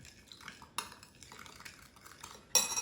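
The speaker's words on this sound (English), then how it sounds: "Mix it all together." Utensils clink and scrape against a bowl while a sauce of brown sugar, fish sauce, minced garlic and vinegar is stirred together, with a few sharp metallic taps and a louder clatter at the end, close and fairly quiet.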